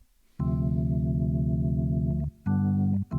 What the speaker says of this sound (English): But imagine playing that on the organ.